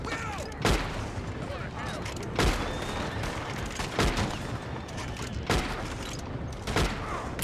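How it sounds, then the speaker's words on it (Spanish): Rifle gunfire in the online Red Dead Redemption 2 western game: five sharp, loud shots spaced a second or two apart over a busy game soundscape with muffled voices. "Saca el rifle."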